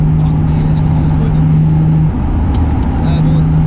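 A car engine drones steadily while driving on a road, with loud, constant road and engine noise close inside the cabin and a brief dip partway through.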